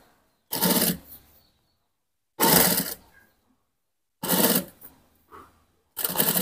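Sewing machine stitching the collar of a men's koko shirt, running in four separate bursts of rapid whirring with quiet pauses between them, close and clear.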